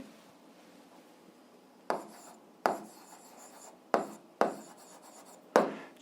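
Pen or chalk strokes set down an algebra solution in five distinct bursts of scratchy writing, each starting sharply and fading, close by against a quiet room.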